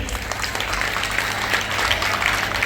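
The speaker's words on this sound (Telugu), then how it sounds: "give a big clap to him" An audience at a career guidance talk breaks into steady applause, a dense patter of many hands clapping that carries evenly through the moment.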